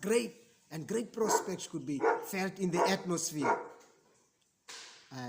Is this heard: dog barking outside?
yes